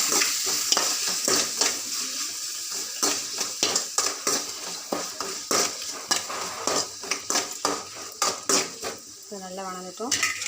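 Chopped tomatoes tipped into a hot pan with garlic kulambu spices, sizzling and frying while a metal spoon stirs and scrapes repeatedly against the pan in a steady clattering rhythm, close and loud.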